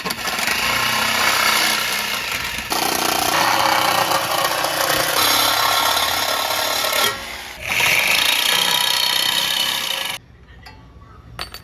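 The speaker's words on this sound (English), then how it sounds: "I'll get the Sawzall out." A Sawzall reciprocating saw trims the sheet metal of an LS engine windage tray, giving loud, continuous rasping cuts with a brief pause near eight seconds before the saw stops abruptly, leaving a few faint clicks.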